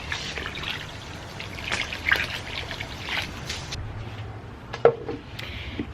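Tap water poured onto chicken feed in a container for fermenting, making a soft, steady trickle with a few small splashes near the end, quiet and close.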